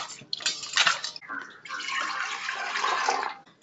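Halved potatoes are washed by hand in a bowl of water, giving close, splashy sloshing and swirling bursts, with a brief pause before a longer stretch of steady churning.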